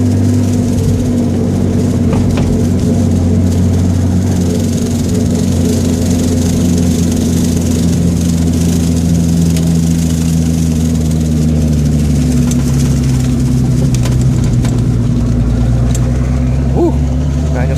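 A 1970 Datsun 240Z with a turbocharged L28ET engine pulling in third gear, its loud, droning exhaust rising and falling steadily, with someone talking now and then over the engine.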